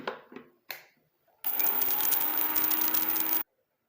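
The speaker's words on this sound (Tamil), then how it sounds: "இப்போது இதை நல்லா பொடி பண்ணிவிட்டு வந்துடலாம்." A kitchen mixer grinds fenugreek and black cumin seeds into powder in one loud, close whirring burst of about two seconds, preceded by a few brief knocks and rattles of handling.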